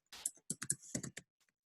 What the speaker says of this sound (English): you just start typing in your Facebook page name